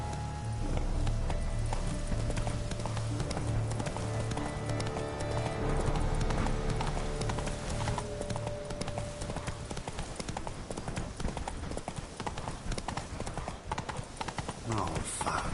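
Roach the horse gallops in The Witcher 3, a fast, continuous clip-clop of hooves, loud and close, with a person talking over the running beat.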